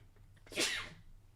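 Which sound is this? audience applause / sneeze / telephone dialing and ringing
sneeze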